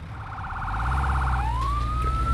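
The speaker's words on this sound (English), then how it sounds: "Emergency lights and sirens." Fire engine siren in the video game Firefighting Simulator, a rapid warbling yelp that switches to a rising wail over a loud, low engine rumble.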